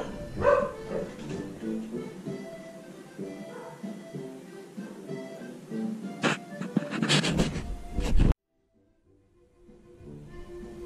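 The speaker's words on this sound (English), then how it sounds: "I just had to check why the dogs were barking their heads off like crazy" Dogs barking at home in a kitchen, several sharp barks and yips with some panting, close by and irregular, then an abrupt cut to near silence with faint background sound.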